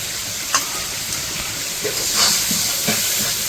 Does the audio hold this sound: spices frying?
yes